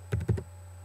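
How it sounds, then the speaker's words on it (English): Typing on a computer keyboard for a furniture online order, a quick close cluster of three or four key clicks over a low steady electrical hum. "I'm just going to type that in."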